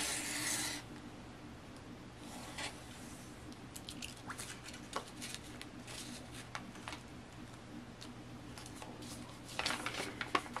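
Paper-pieced quilt block being trimmed along a ruler a quarter inch outside the seam line, giving soft, intermittent rasping cuts over a low steady hum, fairly quiet and close, with a brief louder scrape at the start and near the end.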